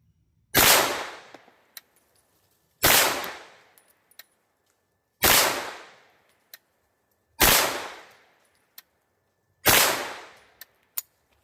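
Five loud, sharp shots from a Bear Creek Arsenal BC-9 bufferless AR-style 9mm pistol firing Federal HST +P 124-grain rounds. They come at steady intervals of about two seconds, each with a long echoing decay and faint tinkles of brass between shots.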